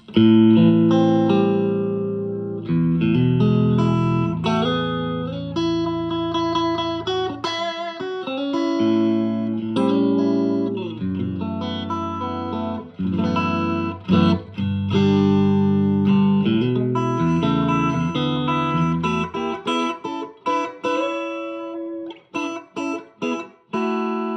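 Electric guitar played through an amplifier with a 10-inch speaker, treble at 7, bass around 5, reverb and tremolo off; strummed chords and single-note runs with a clean, slightly bright tone, loud and continuous, no voices.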